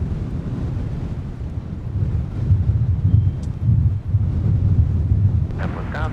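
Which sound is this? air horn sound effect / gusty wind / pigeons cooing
gusty wind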